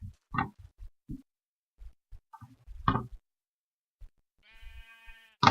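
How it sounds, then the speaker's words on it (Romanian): Several sheep bleat in Minecraft, short blocky game bleats scattered across a quiet stretch, with a louder one at the end and a brief tonal game sound before it. "Hai să mai caut o oaie, să văd."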